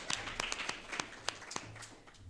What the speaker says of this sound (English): So we can give a round of applause for Ashna